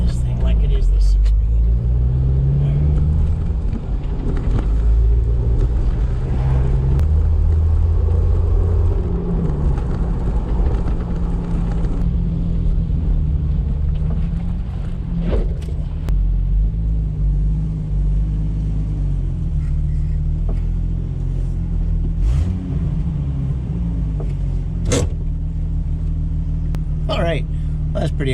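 A 1998 Jeep Wrangler engine running steadily with a deep low rumble, close by, revs shifting slightly as it is driven; a voice talks intermittently over it.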